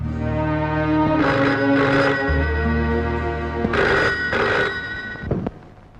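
A telephone bell rings in two loud, close bursts of trilling, separated by a pause, over steady background music in a film scene.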